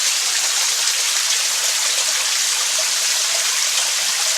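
Water rushes and trickles steadily down a rock slide, a constant bright hiss with no pauses.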